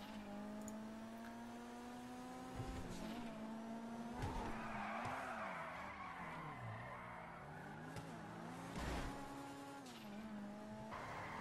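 A sports car in GTA 5 slides through a long drift on the streets of Los Santos, its tires squealing steadily with wavering pitch over a revving engine, with a few sharper skids along the way.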